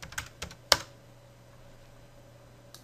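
A few sharp, close keystrokes tap on a computer keyboard as a word is typed into a settings search box, with quiet pauses between them.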